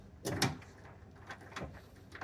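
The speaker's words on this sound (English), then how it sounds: "Trying to open the coin door here." Coin door of an Eight Ball pinball machine being opened: a quick pair of clunking, rattling knocks near the start, followed by a few softer bumps and clicks, close by with no talking.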